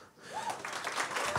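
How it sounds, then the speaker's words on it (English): An audience breaks into applause for speaker Patrick Kelly at a talk on game publishing; the clapping swells from a quiet start into a steady, dense roar that fills the room. "Give him a warm applause."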